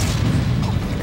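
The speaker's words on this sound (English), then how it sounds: "All those explosions." Loud, dense explosions boom and crash one after another in a Project M fighting game match, a continuous low rumbling roar with no talk over it.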